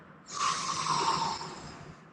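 A single deep inhale during a core-strengthening breathing exercise, a breathy rushing intake of air lasting about a second, close and fairly soft, with no talking.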